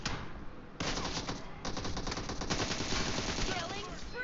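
Gunfire from the mobile game PUBG Mobile in a team deathmatch: rapid automatic bursts crackle steadily and loudly for several seconds, with no voice over them.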